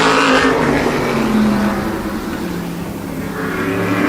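A modified race car at Wall Stadium during qualifying time trials, car 45 struggling out of turn 2, its engine a loud, close, continuous roar that dips slightly in pitch and volume mid-lap before climbing again.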